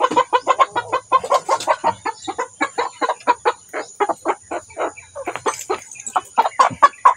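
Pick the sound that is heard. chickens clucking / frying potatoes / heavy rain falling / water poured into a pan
chickens clucking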